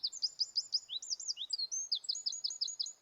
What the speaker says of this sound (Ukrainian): Я знаю, це зяблик.